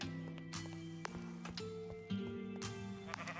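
Sheep bleating in Minecraft, a few short quiet bleats mixed with clicks and soft game sound effects, faint overall and clustered close together.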